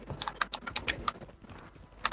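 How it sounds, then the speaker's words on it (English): A teammate types fast on a Cherry MX blue mechanical keyboard during a Warzone 3 match. Crisp, irregular clicky keystrokes come close and fairly quiet, with a few louder taps standing out. "Onaxi, you got those Cherry MX blue keys? I can hear him clicking away."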